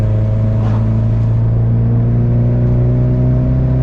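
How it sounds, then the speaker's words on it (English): The turbocharged engine of a JDM car, fitted with a stage 3 upgraded clutch, runs loud and close as a thick, steady droning rumble that rises slightly in pitch as it revs. "I can hear that turbo"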